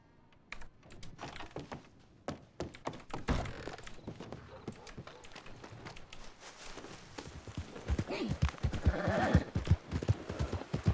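Horse hooves clip-clop in the RedM roleplay world of Red Dead Redemption 2, a steady run of sharp hoofbeats growing louder and denser toward the end, with no talking.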